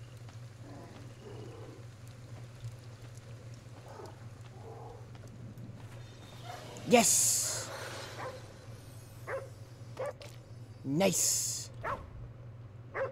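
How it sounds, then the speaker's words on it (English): Dogs bark in the Ghostwire: Tokyo video game, a couple of sharp loud barks with breathy sounds between them over a steady low hum, while a person talks briefly. "Leave me alone, dogs."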